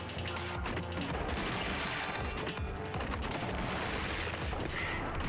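Dense, continuous explosions and crashing blasts fill a scene in the video game Gato Roboto, heavy booming impacts overlapping one after another without a break.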